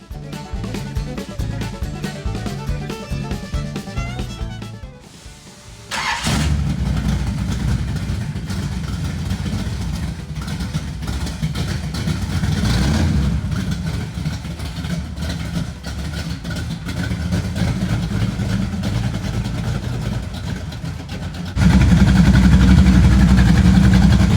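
A Hemi V8 engine rumbles with a low, loud idle, quiet at first, then catching and holding a steady, throaty drone that swells louder near the end.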